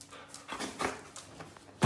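A small dog makes soft whimpers and faint panting sounds nearby, ending in a sharp louder yap.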